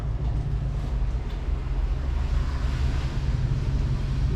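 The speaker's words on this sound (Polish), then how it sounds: "Musimy poczekać, bo samochód przejeżdża." A car drives past on a street beside a parked Iveco Daily 2.8 diesel van, giving a steady, fairly loud broadband rumble mixed with outdoor wind noise for several seconds, with no talking.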